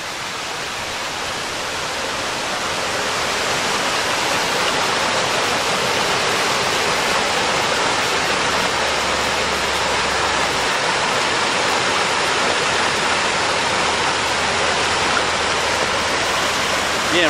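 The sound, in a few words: waterfall at Worlds End State Park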